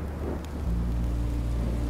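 Rain and thunder in the Minecraft Story Mode video game: a steady wash of rainfall with a low rumbling swell that thickens after the first moment, continuous and fairly close, with no voices.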